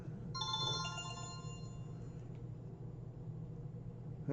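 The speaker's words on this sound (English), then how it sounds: "Oh, got a phone ringing." A mobile phone rings indoors, a bright repeating electronic ringtone melody that starts abruptly, sounds moderately close, and fades into a low room hum, with no one speaking over it.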